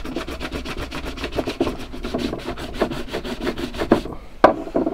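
Wax rubbed onto a leather sword scabbard with quick, regular back-and-forth strokes, a dry scratchy rasp that runs steadily and ends in a few sharper scrapes, close up with no voices.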